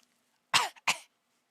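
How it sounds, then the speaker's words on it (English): Two sharp coughs in quick succession in quiet darkness, fairly close and isolated, with a brief throat sound between them and silence before and after. "But you do hear a cough somewhere in the darkness."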